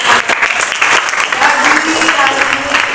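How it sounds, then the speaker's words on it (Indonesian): Classroom of pupils clapping for a classmate, a burst of close, loud, uneven applause from many small hands that carries on throughout, with a voice briefly audible underneath. "Tepuk tangan untuk Dira"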